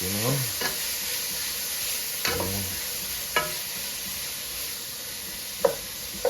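Callaloo sizzles quietly in a frying pan while a utensil stirs it in a few separate scraping, knocking strokes, faint and close with no talk.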